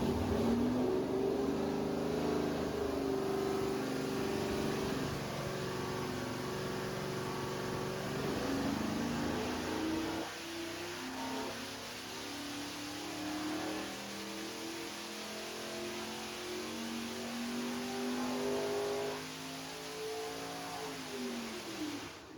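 A 6.0L LQ4 iron-block V8 with open headers roars continuously on a dyno at wide open throttle, a loud sustained drone that climbs, dips briefly and climbs again.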